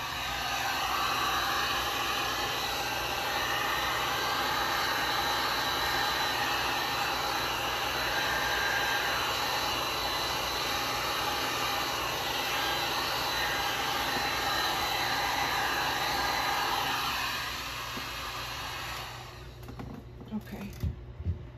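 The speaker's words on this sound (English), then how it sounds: "Let's get the heat gun again." A heat gun blows steadily on resin art for about seventeen seconds, a constant broadband whoosh like a hair dryer, then shuts off and leaves a few faint handling knocks.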